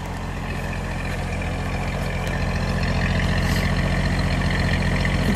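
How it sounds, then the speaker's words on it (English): A 1961 AMC Rambler American with a one-barrel Holley carburetor idles steadily nearby, a continuous low rumble with even pulsing, holding at a constant level for several seconds with no voices. "let me just listen to it idle"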